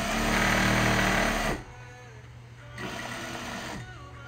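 A sewing machine stitching a grocery tote bag made from old clothing, running loud and close in a fast mechanical whir for about a second and a half, then stopping and starting again in a brief, quieter burst.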